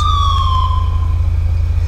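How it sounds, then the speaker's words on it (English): A loud, continuous CHP police car siren in a video game wails over a steady low engine rumble, its pitch sliding down slightly. "I downloaded from fivem the CHP sirens."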